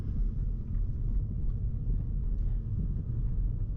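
A driving school car pulls away and drives on, a steady, close, low engine and road rumble that continues evenly with no voices.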